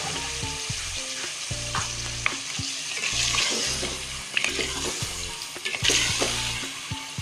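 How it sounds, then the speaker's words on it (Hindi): Chicken and turnip curry sizzles loudly in a hot pan as a little water is added, a steady frying hiss with stirring clatter and occasional pops and bursts, no voices. "अब हमने इसमें थोड़ा सा पानी डालना है।"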